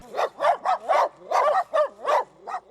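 A dog barks repeatedly in a steady series of loud, close woofs mixed with yips and whimpers, set in an animal shelter.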